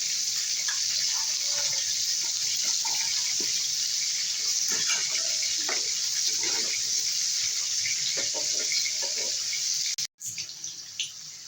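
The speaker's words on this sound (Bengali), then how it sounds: "এবারে দিয়ে দেবো একটু জল" A steady stream of water is added to a cooking pan of spiced flat beans for a vegetarian bhapa shim recipe. The pour runs continuously and close, with faint clinks, then stops abruptly near the end.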